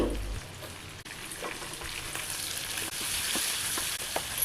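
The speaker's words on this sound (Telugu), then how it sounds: "ఐదు టమోటాలను తీసుకొని బాగా కడిగి ముక్కలుగా కట్ చేసుకొని అవి కూడా ఇందులో యాడ్ చేసి బాగా ఉడికించాలి" Chopped tomatoes and radish cook in a pan with a continuous close sizzle, a soft bubbling hiss with occasional light pops and small stirring knocks.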